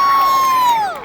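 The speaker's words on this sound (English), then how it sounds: "Give her a round of applause." Convention panel crowd at a fan Q&A cheers and whoops, a high sustained shout gliding downward over murmuring crowd noise, loud and brief, with clapping not clearly evident.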